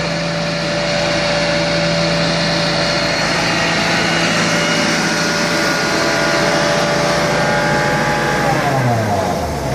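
Carpet cleaning truck engine on a Vortex truckmount, running at full throttle with a steady, loud, high-pitched drone, then winding down in pitch near the end.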